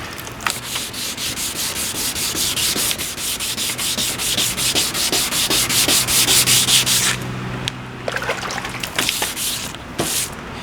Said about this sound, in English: Don't sand like this, because you're going to cause like pressure streaks in there, and it's going to kind of sand uneven.